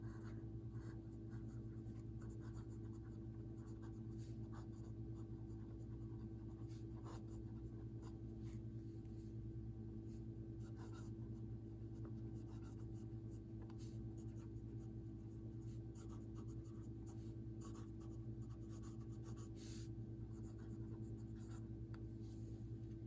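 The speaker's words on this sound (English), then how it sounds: "So I'm gonna do a writing sample just so that we can also see it write in cursive and how well it keeps up." Steady scratching of an Aurora 88 Ottantotto fountain pen nib writing cursive on paper, continuous and close, with faint scratchy strokes over a constant low background hum and no talking.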